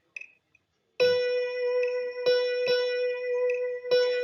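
A steady tone sounds after a short count-in click, repeated several times with long-short spacing in a dotted quarter-note rhythm, clean and close with no speech.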